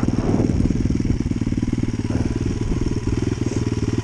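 A freshly finished CRZ motorcycle idles steadily nearby, its engine chugging in a rapid even rhythm with some clatter and crackle, running alone without talk and in need of a carburetor adjustment.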